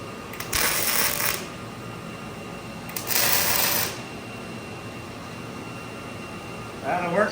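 Arc welding on the frame of a Grumman van during suspension work: two separate buzzing, crackling bursts, each about a second long, sound close by against a quiet background, with a brief mechanical rattle at the end.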